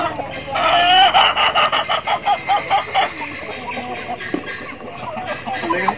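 Farmyard chickens of several breeds clucking and squawking in a loud burst of rapid, repeated calls close by, then settling into scattered lower clucks with faint background noise.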